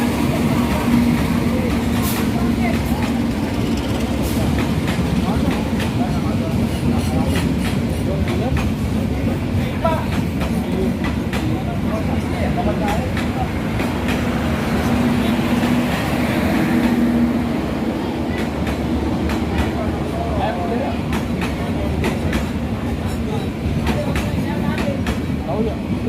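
Train departing from track 1 at Jatinegara station, a steady rumble of rail cars rolling past that holds throughout, with loud station ambience and a voice speaking over it.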